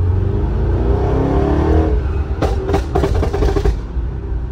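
A GT car's engine and exhaust burble steadily up close, with a low rumble that swells into a rev before settling into pulsing idle bursts near the end.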